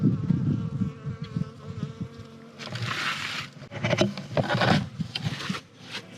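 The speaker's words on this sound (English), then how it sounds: "The bees are all around me." Bees buzzing close by, droning hums rising and fading as they fly past, with some rustling and brushing noises in between.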